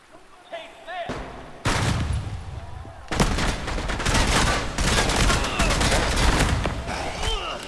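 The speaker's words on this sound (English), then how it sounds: "Hey, why are you shooting at me?" Heavy gunfire in the video game Project Silverfish, with loud bursts of automatic fire that build into a sustained, close barrage after a short stretch of brief talk.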